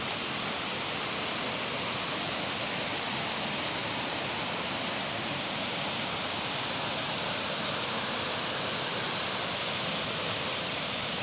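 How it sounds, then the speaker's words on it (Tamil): A waterfall at Muttal roars in a dense, constant rush of falling water, heard from close by, loud and unbroken with no voices over it. "அருவி கீழே இருக்கு."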